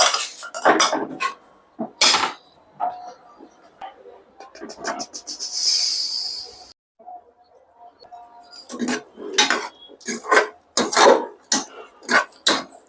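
A pressure cooker of chicken curry is opened in a home kitchen, with metal lid and pot clanks, a steady hiss of released steam, and more clattering of cookware after a short quiet pause.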